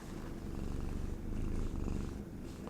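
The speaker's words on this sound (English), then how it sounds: "She's purring." A cat purring softly and close, a steady low rumbling purr that rises and falls gently with each breath, heard alone in a quiet room.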